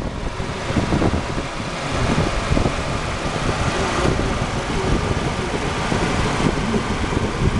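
A 2010 Toyota Yaris four-door sedan idles nearby with a steady, smooth engine hum and light mechanical whir that hold at an even level throughout, with no talking.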